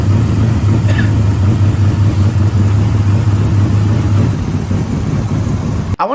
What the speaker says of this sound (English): They revved it, and it sounds super crisp.